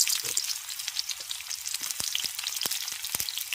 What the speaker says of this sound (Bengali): মাছের তেলটাকে ছিল তাই ওটা শক্ত হয়ে গেছে এর মধ্যে দিচ্ছি কাঁচা পেঁয়াজ কিছু